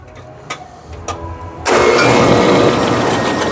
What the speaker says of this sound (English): Let's turn the breaker on and cycle the machine.